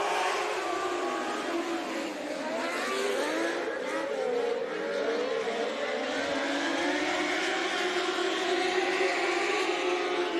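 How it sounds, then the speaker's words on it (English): Dwarf cars race around Kern Raceway, a dense, continuous engine roar from a pack of cars at steady loudness, with a faint announcer voice buried in the din. "and we are racing dwarf cars."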